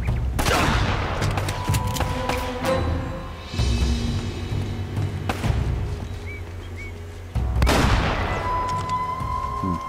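AK assault rifle fire in the action game Uncharted comes in several loud bursts of rapid shots with heavy booming impacts, separated by short pauses.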